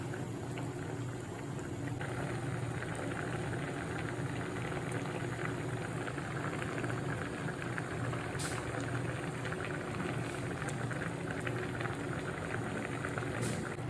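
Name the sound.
dry prawn and raw mango curry boiling in a pot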